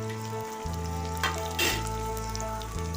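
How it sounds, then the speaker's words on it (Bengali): Chopped onions fry in a pan on a gas stove for a Bengali chicken curry, giving a steady close sizzle with a few brief louder crackles and spatters, and no one speaking. "পেঁয়াজগুলো ততক্ষণ ভাজা হোক।"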